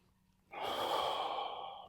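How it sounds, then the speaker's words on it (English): A single slow, close breath with a deep inhale through the nose and a long exhale out the mouth during a thoracic rotation exercise, rising sharply and then sustained alone in a quiet room. "Breathing in, into the nose, out through the mouth."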